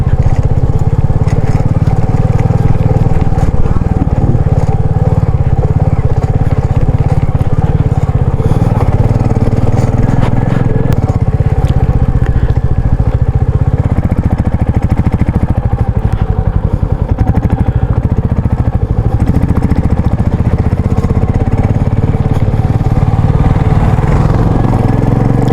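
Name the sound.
motorbike climbing uphill in first gear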